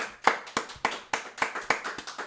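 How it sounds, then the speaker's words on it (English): A small audience on a conversation show claps for a guest; a handful of sharp, separate hand claps sound close and fairly quiet in an uneven rhythm, with no talking. "Everybody give Colleen a round of applause."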